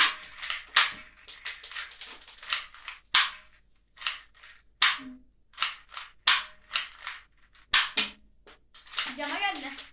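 A PUBG-themed toy gun is cocked and fired again and again, sharp snapping cracks landing in a quick irregular rhythm, close and loud, with brief talk between shots.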